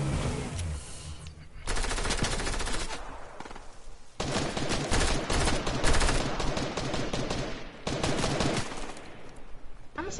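Rapid bursts of gold pistol gunfire in a video game crackle loud and dense, in sustained rattling volleys with brief pauses between them, with no talking over them.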